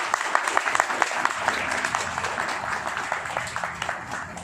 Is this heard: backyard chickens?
no